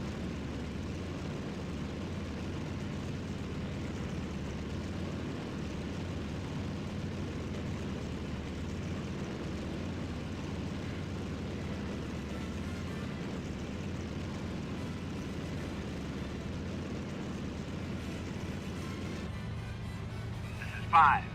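An aircraft coming in to land on the carrier USS Hornet, a loud, steady engine roar that holds for the whole stretch, then cuts back with a short thump at the very end.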